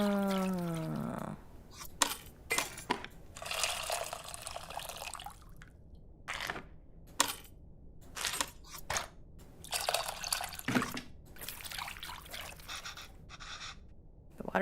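Water with tamarind soaking in a bowl in the cooking game Venba, heard as close splashes, swishes and drips in short bursts separated by quiet gaps, after a brief musical tone at the start.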